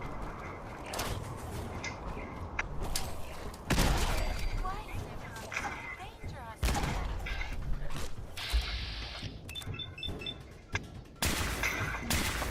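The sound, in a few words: gunshots from the video game Fallout 4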